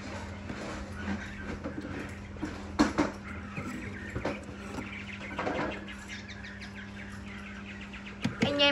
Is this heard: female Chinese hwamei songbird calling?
yes